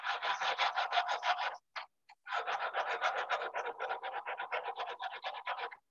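A sand-cast metal ring is filed smooth in close, steady rasping strokes that repeat rhythmically, with a short pause midway before the filing resumes.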